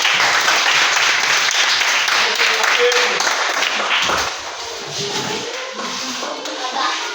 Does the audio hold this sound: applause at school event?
yes